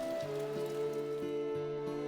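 Steady autumn rain falls on a surface outside a Confucian academy in Andong, a continuous close patter with a faint droning tone underneath, and no voices.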